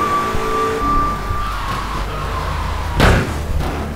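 A car in the video game Grand Theft Auto 3 that has no brakes, its engine droning loudly before a sudden slam or thump about three seconds in, followed by the motor running on.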